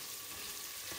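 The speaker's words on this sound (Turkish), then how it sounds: "Şimdi hemen az yağda biraz bir kaşık salçayı kavurdum." Tomato paste fries in a little oil, giving a faint, steady sizzling hiss for about a second.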